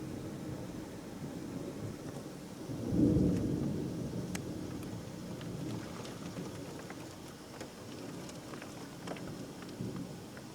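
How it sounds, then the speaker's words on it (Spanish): Thunder rumbles low and distant during a light rainstorm, one rolling peal swelling and fading over steady soft rain pattering on surfaces, no voices. "Ese es el trueno."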